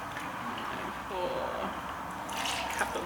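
Campbell's chicken stock poured from a carton into a dish for a family freezer meal, a soft splashing liquid trickle lasting a few seconds, quiet and close.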